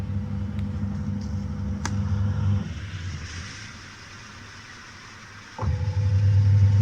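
An automatic washing machine's gear unit hums with a low steady drone that drops to a quieter whir midway, then surges back louder, with a few faint clicks.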